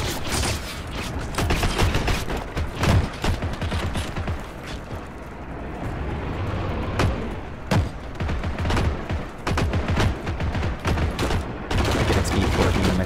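Gunfire in the World War II shooter Heroes & Generals, sharp bursts and clattering shots in irregular rhythm, loud and near, with a brief quieter lull midway.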